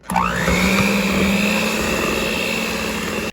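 An electric mixer whirs through cheesecake batter just after eggs go in, rising quickly to a loud, steady motor whine that holds for about three seconds and then stops abruptly, with no talk.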